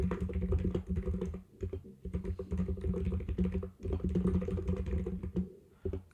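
Fingers type rapidly on a computer keyboard, a close, quiet run of clicking keystrokes in bursts with brief pauses between them.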